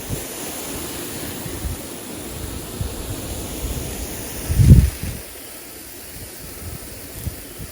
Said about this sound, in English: So we're going to give them a really good watering. soak them right in.